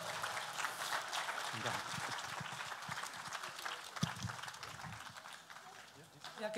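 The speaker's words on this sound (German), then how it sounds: "Applaus für Frau Feusner" Audience applause at a school network's state conference in Saxony-Anhalt, greeting the state education minister; dense, fairly quiet clapping from a large hall crowd, with a few louder knocks and a voice briefly heard.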